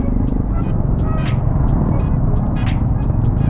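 Heavy road traffic in a Philippine city, a constant loud engine drone close at hand, marked by recurring brief hissing swells as cars and trucks pass one after another.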